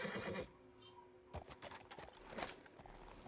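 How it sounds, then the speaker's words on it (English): A horse in the game Red Dead Online neighs and whinnies loudly, with clip-clop hoof sounds and other game noise around it, no talking. "Horse, you are gonna get both of us killed."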